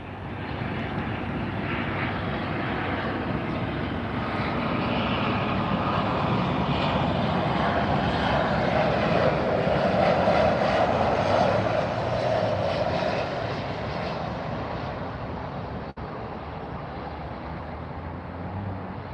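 A heavy Boeing 747 freighter at Miami airport on a Friday night gives a steady, loud jet roar that swells toward the middle and eases slightly at the end, continuous throughout with no talk.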